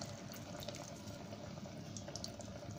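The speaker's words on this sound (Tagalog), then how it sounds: "Dagdagan lang ng konting tubig para hindi siya masunog." Water being added to a cooking pot of chicken curry, a faint, steady trickling and bubbling wash of liquid heard quietly and without interruption.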